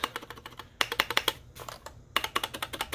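Rapid clacky keystrokes on a Keychron K8 TKL mechanical keyboard in wired mode come in quick bursts with a brief pause between, crisp and close, no voices.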